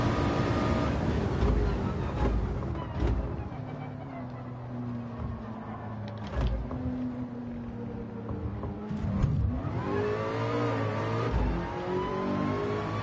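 A Ford GT test car's engine revs and races in a driving video game, a steady loud drone with rising and falling pitch as it shifts and accelerates, close and continuous.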